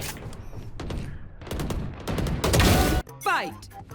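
Rapid automatic gunfire from the Roblox game Untitled FPS, fired while jumping: a loud, dense volley of shots builds to a heavy peak, then cuts off abruptly, with someone talking over it.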